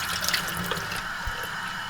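Water runs steadily over a wet-plate collodion photograph being rinsed after development, a continuous close splashing stream with a few drips and no talk.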